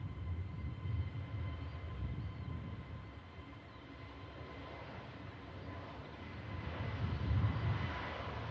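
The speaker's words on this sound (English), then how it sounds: "Jet 2 A321 beginning her takeoff roll, heading down to the Canary Islands." A Jet2 Airbus A321 airliner starts its takeoff roll at Manchester Airport, a steady distant engine roar that swells gradually and builds louder toward the end, with no voices.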